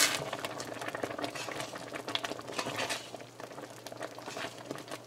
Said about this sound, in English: So this has come to a boil again